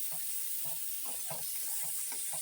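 Green peas and spices fry in hot oil in a pan, giving a faint, steady sizzle and hiss with soft, rhythmic stirring scrapes repeating every half second or so.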